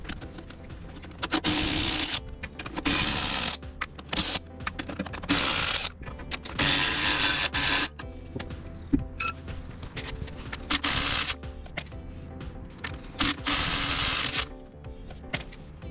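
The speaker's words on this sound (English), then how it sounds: "now I'm going to take them off with my trusty impact wrench with a 41mm socket." A pneumatic impact wrench with a 41mm socket hammers off large truck wheel nuts on a 4x4 overland truck with super single wheels, loud close bursts of rattling lasting a second or two, separated by short pauses.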